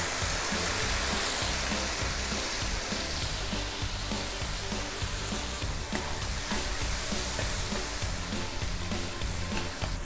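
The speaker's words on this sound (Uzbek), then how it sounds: "Endi go'shtni solib qovuramiz." Beef chunks frying in hot oil in a pot for Uyghur lagman, a loud, continuous close-up sizzle with crackling spatter and no talk.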